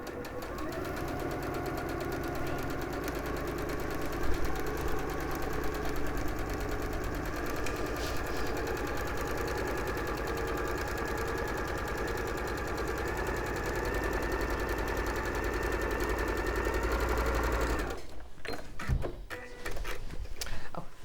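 A sewing machine top stitching a quilt runs in a steady, close, continuous mechanical whirr for most of the span, then stops and gives way to a few light handling clicks.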